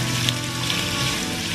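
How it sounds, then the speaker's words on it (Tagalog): Garlic and onions sautéing in a hot pan for pakbet, giving a steady, close, loud sizzle that runs without a break through the short stretch, with no speech. "i-mix ko na rin siya kaagad para hindi masunog yung bawang at sibuyas"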